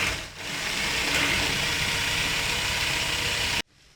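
A sewing machine stitches a zigzag seam on a prayer rug, running as a fast, steady, close whir for over three seconds before stopping abruptly.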